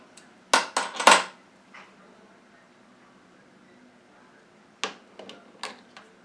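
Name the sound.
nutcrackers prying open a paint lid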